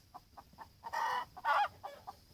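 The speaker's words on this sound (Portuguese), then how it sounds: "galinhas querendo botar no ninho só" Hens cluck around a nest box built from a recycled paint box, with a steady run of short, close clucks broken by two louder, drawn-out squawking calls.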